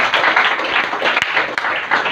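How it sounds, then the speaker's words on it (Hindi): Dense applause from an audience at a DXN motivational talk in Bihar, steady clapping filling the whole stretch with no one talking over it. "उनके लिए फिर से जबरदस्त तालियां होनी चाहिए।"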